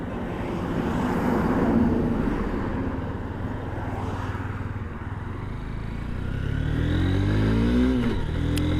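A motorcycle engine droning under a rider on a smooth road, with wind rush, then revving up with a rising whine as it accelerates toward the end.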